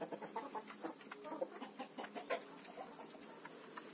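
Hens cluck in a farm chicken yard, with a stream of soft, close, overlapping clucks and chirps that carries on steadily at low volume and no talk.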